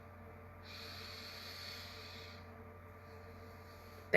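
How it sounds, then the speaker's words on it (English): A single deep breath drawn in through the nose, a soft airy inhale lasting a couple of seconds over a low steady hum, quiet and close, with no talking. "Everybody take a breath."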